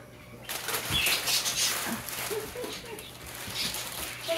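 A bird, likely a pigeon or dove, flaps its wings in a close, fluttering burst that starts abruptly and fades in and out, with people talking faintly alongside.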